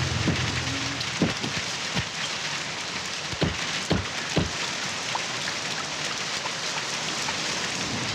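Steady rain hisses down on surfaces with a constant soft wash, punctuated by several sharp, louder drips or knocks scattered through the first half; no voices.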